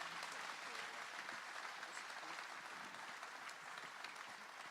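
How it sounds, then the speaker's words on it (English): Audience applause at the Robins Air Force Base State of the Base event, a faint, dense and even patter of clapping from a crowd, continuous for several seconds without speech. "please give them a round of applause"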